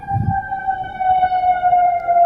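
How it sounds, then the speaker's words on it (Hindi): An air raid siren wails over Qatar as part of an attack alert, a loud sustained tone that holds steady and swells slightly, with a low rumble near the start and no voices. "सायरन बज रहा है, लोगों से शेल्टर में रहने के लिए कहा गया है।"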